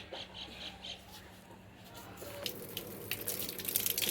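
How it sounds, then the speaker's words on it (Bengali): Warm tank water poured over a newly planted plant in a hot-weather garden, a soft trickle at first that turns into a louder, steadier splashing and spatter during the second half. "চলো গাছে এবার একটু জল দিয়ে দিই"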